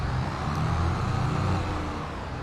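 A farm vehicle engine in Farming Simulator 22 labours up a hill, a steady loud droning rumble with no talking over it.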